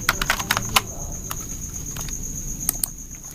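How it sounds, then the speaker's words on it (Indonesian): Keystrokes tapped out on a Chromebook keyboard, a quick cluster of close clicks at the start and then sparser, scattered taps over a steady soft background hum. "Kemudian Anda mengetik"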